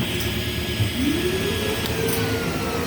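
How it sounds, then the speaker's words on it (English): Shop vacuum on a workshop work table kicking on automatically with the saw, a steady loud whirring drone with a rising motor whine as it spins up, running alone. "Vacuum comes on automatically."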